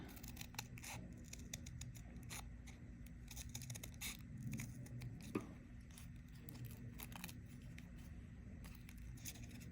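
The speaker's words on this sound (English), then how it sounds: "Just making these little slits so I can cut it out. And then I'm just gonna keep cutting." Scissors cutting paper to make a radial snowflake, a faint continuous snipping and rustling close by, with a slightly sharper snip midway.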